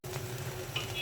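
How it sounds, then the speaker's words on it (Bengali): Garlic hits hot oil already frying with panch phoron for a sweet and sour pickle, giving a soft, continuous sizzle with faint crackles, heard alone for about a second. "রসুন দেওয়ার সাথে সাথে তেলটা ফুলে গেছে"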